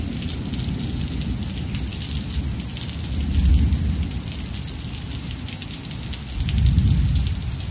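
Steady heavy rain hisses on surfaces while low rumbles of thunder swell and fade twice, close and enveloping, with no voices.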